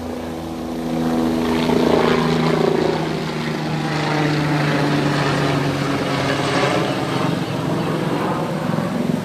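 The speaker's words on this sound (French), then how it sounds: "il y a l'hélicoptère qui arrive" A helicopter passes overhead outdoors, its loud droning rotor roar swelling and holding steady for several seconds with no talk over it.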